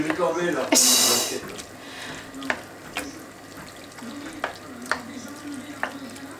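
A spoon stirs a mixture in a pan with scraping strokes and a loud burst of sizzle early on, then quieter scrapes and clinks, while a voice talks nearby.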